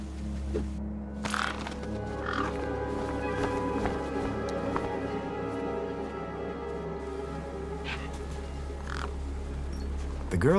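Crows caw in scattered calls over a steady low hum beside a corpse propped against a rock in the Beyond a Steel Sky video game.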